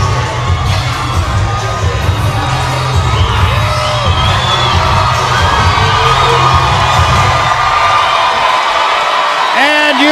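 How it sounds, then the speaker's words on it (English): A boxing arena crowd at a women's championship fight roars and shouts continuously, a loud, dense wash of voices with scattered whoops and a sharp rise near the end. "And you hear the crowd begin to react to one of their own."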